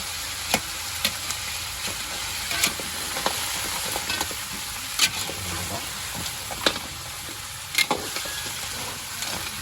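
Moringa leaves go into a simmering coconut milk stew while a spoon stirs, giving soft bubbling and a quiet sizzle broken by repeated sharp scrapes and clinks of the utensil against the pot.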